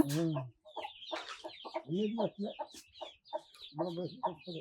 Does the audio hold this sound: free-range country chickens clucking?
yes